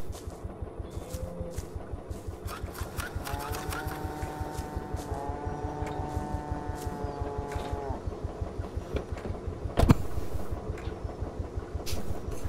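Tractor engine in the horror game Greyhill Incident runs with a steady, rapid mechanical chugging throughout, a droning tonal hum rising in the middle and a sharp bang near the end.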